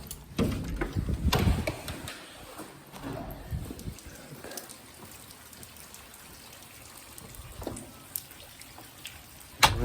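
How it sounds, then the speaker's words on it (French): Rain falls outdoors ahead of an early-morning wait at an airport, a steady soft hiss with scattered patters and occasional rustling bumps close by. "Je vais même devoir attendre sous la pluie qui arrive."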